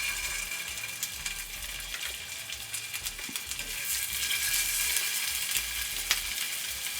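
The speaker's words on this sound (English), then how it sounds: "So once the oil is hot enough, now let's fry. We sear them. We sear the meatballs." Meatballs sear in hot oil in a pan with a steady, dense sizzle that stays loud and close throughout, with a few faint clicks and scrapes on top.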